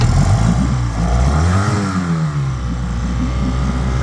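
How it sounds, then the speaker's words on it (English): An outboard motor on a salvaged inflatable boat runs steadily nearby, its pitch rising and falling briefly as it revs, then settling into a constant drone. "We've got the outboard running."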